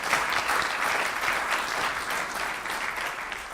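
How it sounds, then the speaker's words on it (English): A lecture audience gives David and Grace another round of applause, a dense, even wash of many clapping hands at moderate distance, steady throughout without talk. "So another round of applause, please, for David and Grace."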